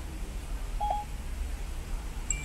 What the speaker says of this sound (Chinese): 正在给10086打电话。